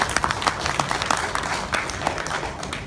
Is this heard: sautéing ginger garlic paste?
no